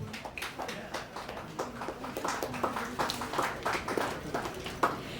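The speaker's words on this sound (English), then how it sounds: "a big round of applause for Mr. Sanjay Gaitonde" Applause from an audience at a Mumbai cricket event honoring Mr. Sanjay Gaitonde: uneven, fairly sparse hand claps spread across the whole stretch, with a faint voice underneath.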